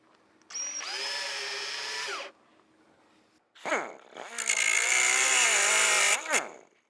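Power drill driving two screws into a part for an Evel Knievel tribute motorcycle, two whining bursts of the motor revving up and winding down, the second longer and louder, with no talk.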